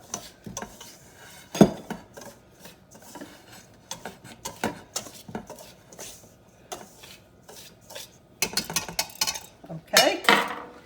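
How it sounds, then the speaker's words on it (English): A metal whisk scrapes and clinks steadily inside a pot, blending cornmeal and all-purpose flour together, with light, irregular taps and rubbing strokes up close throughout. "I just use my whisk to kind of blend those together"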